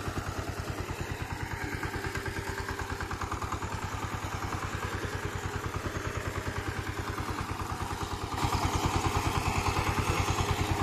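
A tractor engine on a farm runs steadily with a fast, even chugging pulse, close and continuous, growing slightly louder near the end with no voices.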